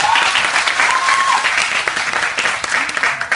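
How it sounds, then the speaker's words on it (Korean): A church congregation claps together during a sermon, producing thick, loud applause that fills the room throughout, with some crowd voices mixed faintly into the clapping. "박수!"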